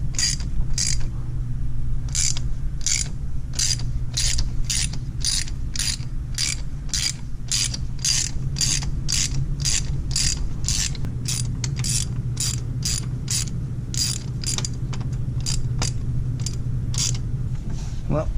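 A ratchet works overtightened spark plugs loose on a 1997 Chevy S10: a long, steady run of close, loud clicks in even rhythm over a low background rumble.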